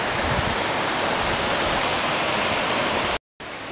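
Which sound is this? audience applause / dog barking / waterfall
waterfall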